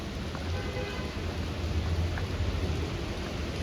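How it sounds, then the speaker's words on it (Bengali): Heavy rain pours down steadily in a dense, continuous wash with a low rumble underneath, loud and close throughout. "আর এই দেখো আবার কি পরিমাণে বৃষ্টি শুরু হয়েছে, ঝমঝম করে বৃষ্টি পড়ছে।"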